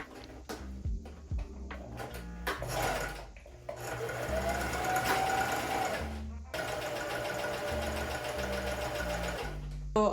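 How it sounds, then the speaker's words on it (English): Sewing machine running a straight stitch across stretch fabric for a hat, several short bursts of close mechanical whirring with brief pauses between them, no speech. "I'm gonna do one straight stitch right across."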